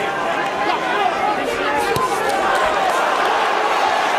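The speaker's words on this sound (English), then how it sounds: "Crowd cheering every time he lets his hands go" A boxing crowd at Joseph Parker vs Hughie Fury keeps up a steady roar and chatter, with brief swells of cheering and commentators talking over it.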